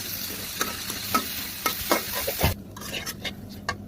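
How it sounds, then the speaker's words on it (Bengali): Dried fish and tomato fry in a pan for shutki bhuna, a close sizzle broken by repeated scraping stir strokes in a loose rhythm, then a quieter sizzle with lighter strokes, and no voices. "টমেটোটা দিয়ে আবার আমি কয়েক মিনিট এগুলোকে ভেজে নেবো।"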